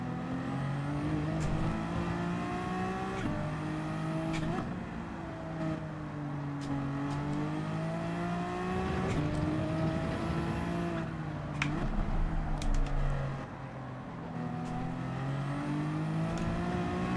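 A Porsche Group 3 race car in Gran Turismo 7 at Fuji International Speedway, its engine note climbing and dropping through repeated gear changes, with steady loud revving and brief shift cuts throughout.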